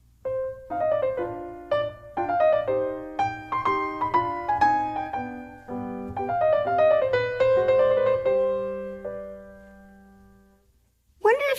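Solo piano plays the opening phrase of a Haydn allegro finale, bright detached notes in a lively question-and-answer pattern that thins to a held low note before a sudden loud chord at the very end.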